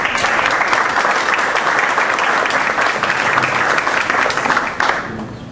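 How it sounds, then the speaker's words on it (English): An audience at a talk applauds to welcome a speaker, with steady dense clapping that carries on throughout and tapers only slightly near the end. "let's give him a big round of applause"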